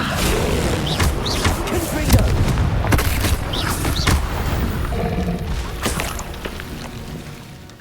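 Confringo fire spells blasting in Hogwarts Legacy, a rapid series of loud booming impacts mixed with casting effects, while a voice shouts spell names over the combat.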